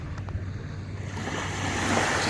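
Water on the Lake Superior shore washes in as a broad, rising surf hiss with wind buffeting the microphone, and no one speaks.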